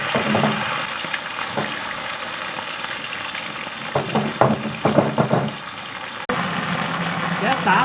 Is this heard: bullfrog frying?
yes